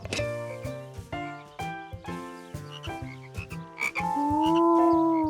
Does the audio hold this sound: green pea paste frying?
no